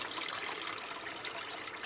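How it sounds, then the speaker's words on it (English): Tap water runs steadily over freshly hard-boiled farm eggs cooling in a kitchen sink, a continuous broad hiss and trickle with no talk over it. "continue the water running"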